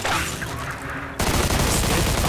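Gunfire in Mafia II, a dense crackling burst of shots and impacts, loud and close, pausing briefly midway before a heavier second volley resumes.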